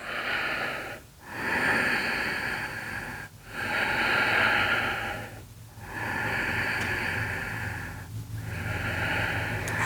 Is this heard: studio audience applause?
no